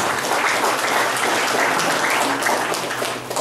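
A crowd at an engineering faculty yudisium ceremony honours graduating students with dense, sustained clapping that holds steady for several seconds before easing slightly.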